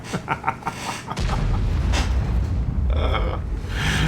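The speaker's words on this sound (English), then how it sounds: "He's already detected and being shot at" Heavy tank in a World of Tanks–style game under fire, with a sudden loud low boom followed by sustained rumbling impacts and engine drone.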